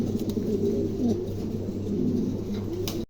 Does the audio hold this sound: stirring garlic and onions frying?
no